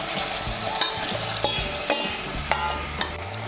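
Chicken frying in a pan with water splashed in, giving a steady sizzle broken by sharp clinks of a spoon against the pan at a regular rhythm, close and moderately loud.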